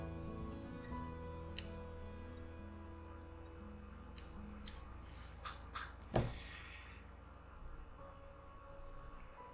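Scissors snipping thread at a fly-tying vise while tying a bead head pheasant tail nymph, a few sharp quiet clicks and one louder snip against a low steady background hum, no talk.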